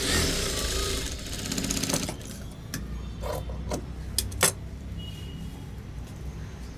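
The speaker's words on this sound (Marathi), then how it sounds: "तर आपण ते थोडंसं स्टिच करून घेणार आहे" A sewing machine stitches pieces of a size-32 four-tuck blouse in a rapid, close mechanical run for about two seconds, then stops, leaving a low background hum and a few sharp handling clicks.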